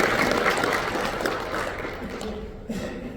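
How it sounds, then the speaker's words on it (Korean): An audience at a Korean lecture breakfast claps in thanks, a dense, steady round of applause that fades gradually over a few seconds. "한번 박수로 감사의 박수를"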